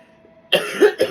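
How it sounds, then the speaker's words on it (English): A short sequence of lingering post-COVID coughs, two or three rough, close bursts after a brief quiet lead-in, each sharp and loud. "COVID cough is lingering."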